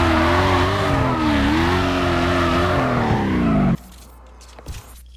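Civic Cruiser police car driving in Need for Speed Carbon, a loud engine drone with rising and falling revs that cuts off abruptly, followed by quiet with a faint clunk, no talk.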